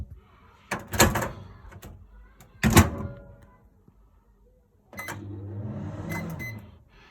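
A cupboard door in a 2007 Swift Challenger 530SE caravan is handled with two sharp knocks close by, followed by a softer rumbling slide and shuffle as the door slips over the top.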